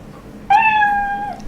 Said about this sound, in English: And a meow.